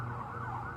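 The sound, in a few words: emergency vehicle sirens in the city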